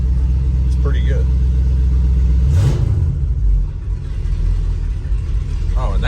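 A 390 V8 engine on high idle through a new stainless exhaust on a station wagon rumbles low and steady, dipping briefly midway while a person talks over it.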